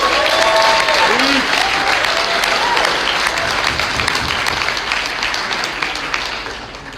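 Audience applause at an awards night, thanking a presenter after a presentation: dense, sustained clapping from a crowd that holds steady, then slowly thins and softens toward the end, with a brief voice or tone faintly audible early on.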